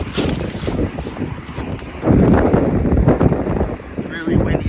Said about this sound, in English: It's really windy out here, guys.